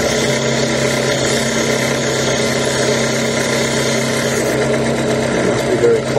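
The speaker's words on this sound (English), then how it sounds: "drilling." A steady high-pitched mechanical whine of a small drill boring a hole through a fairly thick gemstone, running continuously and close by without a break.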